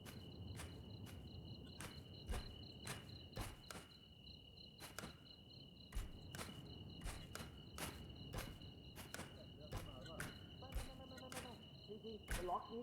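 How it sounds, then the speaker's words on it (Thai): Footsteps in the horror co-op video game R.E.P.O. fall in a steady, fairly quiet rhythm over a constant high insect-like chirping ambience. "ได้ยินเสียงเท้าปะ"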